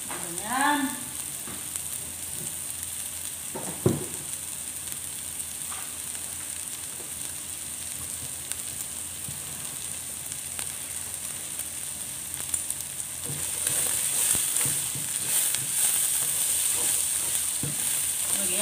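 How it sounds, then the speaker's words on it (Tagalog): Grated coconut sautéing in a hot pan, a continuous close sizzle with occasional scrapes and stirring knocks, growing a little louder and brighter toward the end, with a brief voice early on. "Kailangan ko gisa-gisa ang yung lubi."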